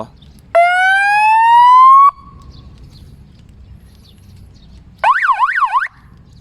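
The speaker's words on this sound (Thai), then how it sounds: "เสียงขอทางอะนะฮะ เสียงหวอ" A siren system fitted to a 2014 Ducati Hyperstrada 821 motorcycle sounds loud and close: a rising electronic whoop for about a second and a half, a pause, then a short fast warbling wail.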